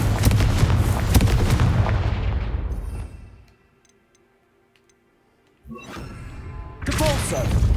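Confringo fire-blast spell in the Hogwarts Legacy video game, loud crackling bursts and thumps at the start that fade out by around three seconds. A short silence follows, then further game effects return.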